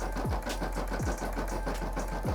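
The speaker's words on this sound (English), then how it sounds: "stitching out some lettering right now" Embroidery machine stitching out lettering, with a rapid steady needle chatter and a constant low hum, plus a few sliding whirring sweeps as the frame moves, close and alone.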